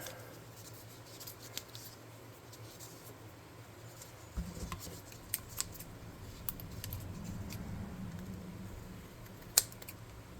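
Scissors snip off excess cardboard for tabletop game walls, a series of quiet crisp cuts that cluster in the second half over a low room hum, with no speech.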